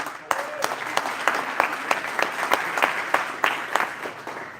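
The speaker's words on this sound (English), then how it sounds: "give Ashley a round of applause because she's done" An audience at a Rochester Lancers press conference claps steadily in a room, with sharp individual claps standing out over a continuous wash of applause.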